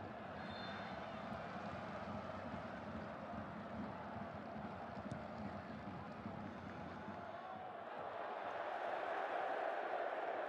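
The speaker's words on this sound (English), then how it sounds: "the crowd are letting their feelings be known" A football stadium crowd at an Asian Champions League round-of-16 match between Shandong Taishan and Kawasaki Frontale roars in a steady, dense wash of noise that swells louder toward the end, with faint commentary underneath.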